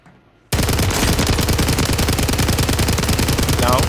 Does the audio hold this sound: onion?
no